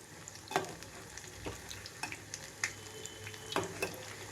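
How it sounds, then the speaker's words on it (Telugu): Sweet corn pakodas frying in oil while being turned over, a soft steady sizzle broken by several distinct clinks and scrapes of a spoon against the pan. "రెండు వైపులకి టర్న్ చేసుకుంటూ వేయించుకోవాలి"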